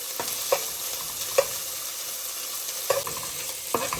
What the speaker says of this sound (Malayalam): ഒന്ന് വഴന്ന് വരുമ്പോഴത്തേക്ക് നമുക്കതിലോട്ട് നമ്മുടെ ചെറിയുള്ളി ചേർത്ത് കൊടുക്കാം